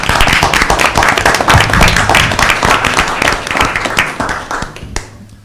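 An audience at a city council meeting breaks into dense applause that stays steady for several seconds, then thins out and stops abruptly near the end.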